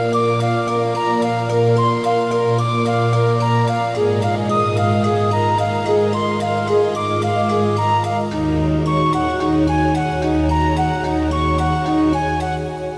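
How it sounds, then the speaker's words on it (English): A Korg synth in a music production mix plays dense, sustained chords with layered tones and a moving low line, full and continuous throughout with no voices. "then this from Korg sounds awesome."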